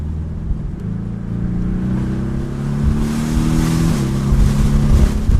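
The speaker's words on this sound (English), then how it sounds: "little burble, little pop and crackle from the exhaust" A 2017 Porsche 718 Boxster S with turbocharged engine and sport exhaust drones through a gear change, its low burbling note rising as the exhaust crackles lightly near the end, heard up close with no talk.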